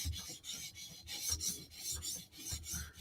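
Steel blade of a Spyderco Slysz Bowie knife drawn repeatedly across a sharpening stone, a close, steady series of raspy rubbing strokes in an even rhythm, with no talking.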